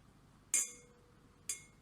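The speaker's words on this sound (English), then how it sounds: "You can see how the spoon tapped on a glass and you could hear the clink sound it made" A metal spoon taps a glass twice, about a second apart, each strike a bright, ringing clink that decays briefly; close and clear with no talking.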